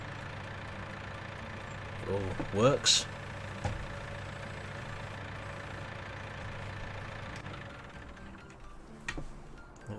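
A small 100-horsepower four-cylinder tractor in the Farming Simulator 19 video game idles on a farmyard with a low, even drone. A person speaks briefly over it, and a sharp rattle briefly rises above the engine.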